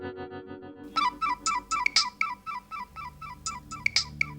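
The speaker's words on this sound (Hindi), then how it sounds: "अननोन नंबर, लगता है किसी फिल्म स्टार का फोन है।" A mobile phone rings with an unknown number calling: a short steady tone gives way to a bright electronic ringtone melody repeating in quick, even pulses, clear and alone.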